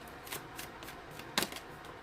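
Tarot cards being shuffled by hand, a close, soft papery riffling in repeated bursts with one sharper flick partway through, no talking.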